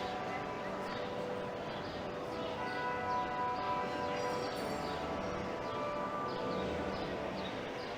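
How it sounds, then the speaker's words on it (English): Church bells peal repeatedly in the distance on New York's Upper West Side on a hot day, their ringing tones layered over steady outdoor crowd noise and traffic. "the church bells are going off."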